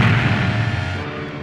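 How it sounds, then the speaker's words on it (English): A sci-fi cannon on a droid-built salvage ship fires a warning shot: one loud, deep boom with a rumbling low tail that fades over a second and a half, heard alone with no voices. "C-3PO watched as one of the Droid World cannons aimed at them and fired."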